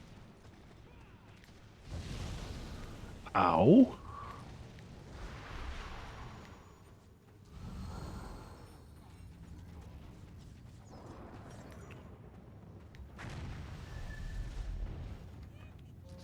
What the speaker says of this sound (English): Oh, there's a war happening with cannons.